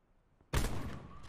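Gunfire in the Blackout video game: a sudden loud burst of shots after near silence, then a sustained rattling tail that fades slightly over about a second, with no voices.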